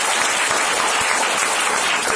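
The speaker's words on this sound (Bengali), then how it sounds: "একবার জবরদস্ত ক্ল্যাপ ফর মিস্টার গৌতম ভাই" Audience applause for Mr Gautam, a dense, steady clapping from a crowd that fills the whole moment at an even level, with no voices over it.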